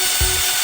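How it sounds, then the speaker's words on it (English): A power drill bores a hole through a template for a vintage mini sled, giving a short, close, steady whirring burst with a brief bump in load. "Let's drill that out"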